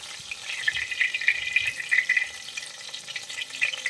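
Chicken lollipops deep-frying in hot oil, a steady crackling sizzle with dense bubbling pops throughout, close and fairly loud with no voices.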